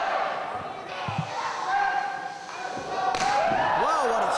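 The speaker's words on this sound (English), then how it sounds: "Wow, what a shot right to the chest by D'Lo Brown. Knife edge chop" A wrestler, D'Lo Brown, lands a knife-edge chop to an opponent's chest during a WWE match: a single dull slap near the middle, with a roaring arena crowd and a commentator talking throughout.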